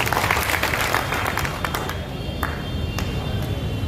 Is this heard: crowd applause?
yes